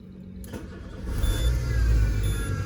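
A Peugeot Partner engine cranks and catches, then settles into a low, rumbling idle that builds slightly in loudness, heard close up with no talking.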